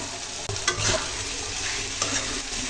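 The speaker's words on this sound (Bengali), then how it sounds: "এগুলো ভালো করে নেড়ে চেড়ে দিতে হবে" A pan of kakila fish curry with tomato sauce being stirred, a steady close sizzle with a few spatula scrapes and knocks, no voices.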